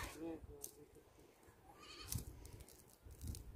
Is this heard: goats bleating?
yes